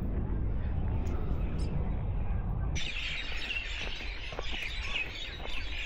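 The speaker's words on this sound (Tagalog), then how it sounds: "Ingay ng mga ibon" Many birds chirp and squawk from a tree in Auckland in the evening, a busy overlapping chorus that starts muffled and turns brighter and closer partway through, with some nearby voices in the background.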